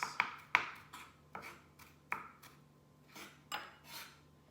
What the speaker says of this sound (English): I just like to mince it up like this.